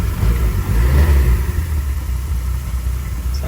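A 1954 Kaiser Darrin sports car engine runs steadily close by with low rumbling revs, a slight swell early on then settling into a continuous mid-level drone, no voices.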